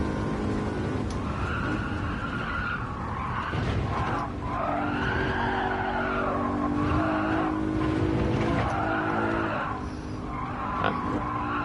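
Tyres squeal on and off under a steady engine drone as a Lexus LC500 slides through corners at Watkins Glen in Gran Turismo 7, loud and sustained across the whole stretch.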